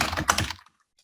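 Quick burst of computer keyboard typing during an email program walkthrough, close and clear for about half a second, then silence.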